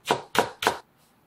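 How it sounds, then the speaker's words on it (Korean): Knife chopping vegetables on a board for summer young-radish kimchi: three quick, close, crisp cuts in a steady rhythm, then quiet. "쫑쫑쫑쫑 어슬썰 썰어주세요."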